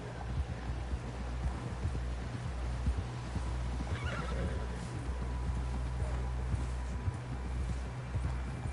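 A horse in Red Dead Redemption 2 whinnies and clops its hooves over a steady low rumble of game ambience, the neigh standing out briefly midway through the clip.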